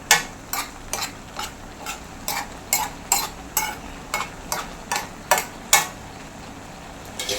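A spoon stirs chakkakuru padavalanga thoran, a Kerala-style jackfruit seed and snake gourd stir-fry, in a pan, giving about a dozen regular scraping strokes over a low steady sizzle with no talking.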